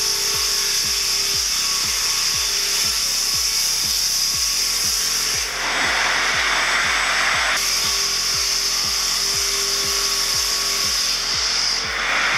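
A restyled Sever 550 sawmill cuts a 2-inch board in a steady, loud mechanical run, with a rhythmic low chugging pulse under a sustained high whine. The pitch shifts for a few seconds partway through as the blade bites into the wood.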